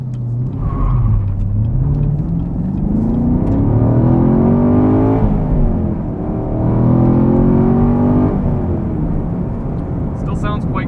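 Engine of a 2017 Chevrolet Camaro 2SS manual convertible pulling through rising revs, loud and steady from inside the car, pitch climbing and dropping across gear changes.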